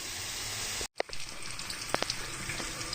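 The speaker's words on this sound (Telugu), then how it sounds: "టమాటా కూడా ఆల్మోస్ట్ ఫ్రై అయింది" Tomatoes fry in a pan for Kabul chana masala, a loud close sizzle that cuts out for a moment, then resumes with a few sharp clinks and crackles.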